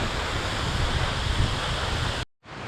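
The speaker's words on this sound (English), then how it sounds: "Look at this stream, this river is going down to the edge down there where we were standing just right before" A mountain stream flowing through a Kenyan national park, a dense, loud and continuous rushing roar of water that cuts out briefly near the end.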